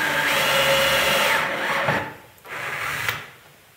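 Drill bit boring slowly through a wooden vise part in a woodworking shop, a steady close grinding whir with strained tone that drops off briefly and then resumes for a second stretch before fading.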